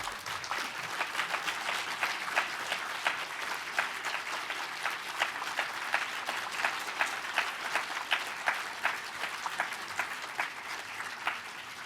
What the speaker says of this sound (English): we should have another round of applause for our moderator, Professor Stephanie Ma